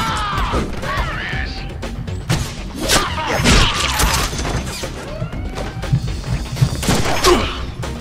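Rapid gunfire and crashing impacts in the Deadpool PC action game, loud dense bursts of shots and thuds layered over game effects, continuous for the whole stretch.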